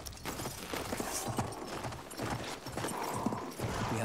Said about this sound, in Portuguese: Respawn o cavalo aí.